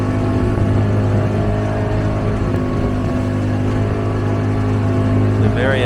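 A motorboat crossing the Nile at Aswan drones with a steady, loud engine hum and harmonic whine heard close up from aboard, water rushing beneath, with no speech.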